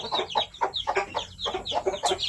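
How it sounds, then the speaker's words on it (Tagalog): Young chicks, Japanese Shamo and Barred Plymouth Rock, clucking and peeping in a busy cluster of short, repeated calls, close and steady throughout. "Daming sisiw."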